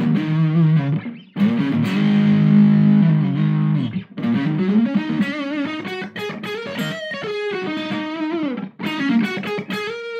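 A Fender Lincoln Brewster Stratocaster electric guitar played on its neck pickup, a loud, distorted lead line of sustained notes and quick melodic runs through effects, continuous with only brief pauses.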